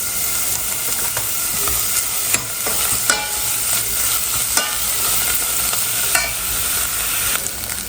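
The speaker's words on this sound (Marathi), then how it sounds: "लगेचच कांदा ॲड करायचा आहे यामध्ये आणि पिंक कलरचा होईपर्यंत आपल्याला वाट बघायची" Onion fries in a pan with cumin and bay leaf, giving a continuous loud sizzle. Sharp stirring clicks and scrapes recur every second or so, close by, and no one speaks.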